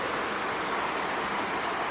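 A waterfall pours in a steady, broadband rush, constant and fairly loud, with nothing else breaking through.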